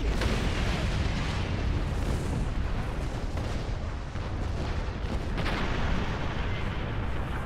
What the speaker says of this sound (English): Yeah, fire torpedoes.